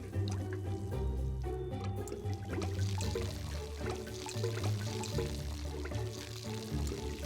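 Water poured over plants in the Desperate Housewives video game, a steady trickling pour running the whole time beneath continuous game music.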